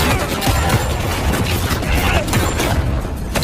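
Dense, continuous gunfire from a film shootout at a harbour as FBI agents storm in, a loud roar of overlapping shots and booms with no let-up.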